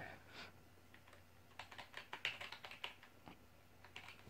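Light, quick typing on a computer keyboard, with irregular bursts of soft key clicks close to the microphone against a faint hum.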